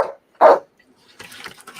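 A dog barks close by, two short sharp barks in quick succession, followed by faint rustling and low background noise.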